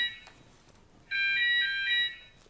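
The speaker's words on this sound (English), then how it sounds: "How do you say alarm in Arabic?" An electronic alarm beeps in a classroom, a faint tone at first and then a louder sustained burst of shrill pulsing tones that stops abruptly, with no talk over it.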